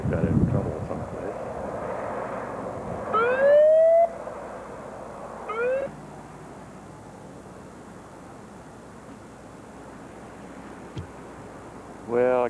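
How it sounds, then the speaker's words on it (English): An ambulance siren wails from a distance in a mountain setting above water, rising and falling in several sweeping bursts over a steady rushing background, with a person talking between them. "Comes the ambulance."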